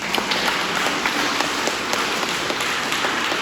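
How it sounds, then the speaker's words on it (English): Steady, dense applause from an elementary school assembly audience honoring fifth grade teachers, many hands clapping together in a broad continuous wash with scattered sharper claps throughout. "let's give a round of applause to Mr."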